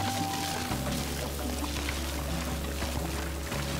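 Steady water spray gushing continuously to wash away pink gunk in the co-op video game It Takes Two, layered over a droning game music bed with no pauses.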